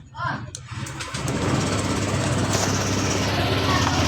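A Honda Click 125i scooter with 60,500 kilometers is started, a brief cranking burst and catch giving way to a steady, close idle that runs on evenly.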